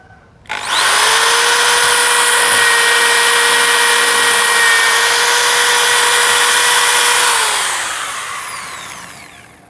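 A Dongcheng DJZ10-10 electric drill spins up sharply and runs at a steady high-pitched whine for about seven seconds, then winds down gradually, loud and close with no talk.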